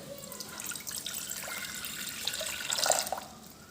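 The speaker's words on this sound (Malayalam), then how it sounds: "അതിനായിട്ട് ഞാൻ ഒരു ഗ്ലാസ് വെള്ളം ഒഴിക്കുകയാണ്." A glass of water is poured into a vessel set up for testing an induction cooker, giving a steady, close splashing trickle that swells briefly near the end.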